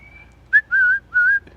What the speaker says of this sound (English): That's a pretty bird.